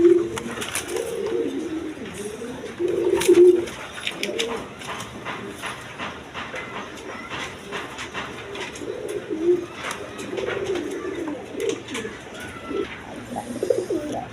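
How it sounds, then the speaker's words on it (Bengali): A pair of Goola pigeons coo in low, repeated rounded phrases at close range, with faint chirps and background noise from a bird market. "এখানে এক পেয়ার গররা কবুতর আছে দেখেন"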